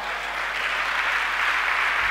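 A congregation at a church convocation applauding to acclaim the king, a dense, steady wash of many hands clapping together, loud and sustained without a break.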